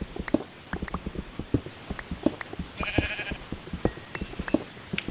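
Sheep bleating in Minecraft beside a steady rhythm of soft footsteps, with short bleats rising over the regular stepping.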